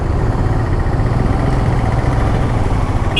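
Busy road traffic crossing the Mahanadi Bridge into Cuttack, heard from a Royal Enfield Himalayan touring motorcycle: a steady, loud mix of engines and idling vehicles with a continuous low rumble and no clear break.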